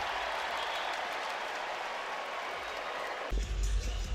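Arkansas versus Missouri men's college basketball arena crowd roaring steadily as a dense wall of noise, swelling louder with low rumble near the end.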